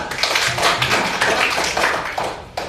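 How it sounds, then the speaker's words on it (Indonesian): Students in a classroom applaud group two with a brief, loud burst of clapping from many hands, dense and close, that fades slightly near the end. "Oke, tepuk tangan dulu kelompok dua"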